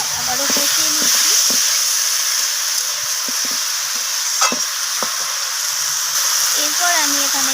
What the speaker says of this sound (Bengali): মটরশুঁটিগুলো দিয়ে আমি সব কিছু সবজির সাথে আবারও কষিয়ে নিচ্ছি।